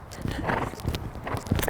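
A stiff dressage horse moves around an arena, its hooves thudding in a steady, muffled rhythm close by, with soft scuffs and rustling mixed in and no clear speech.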